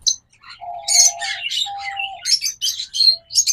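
A pair of red-eye lutino opaline pet birds chirp and squawk in quick, bright, overlapping calls, close and clear with short whistled notes, no talking.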